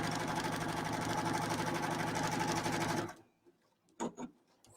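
A sewing machine stitching binding onto a quilt runs in a steady, fast mechanical chatter for about three seconds, then stops, leaving a few small clicks and handling sounds.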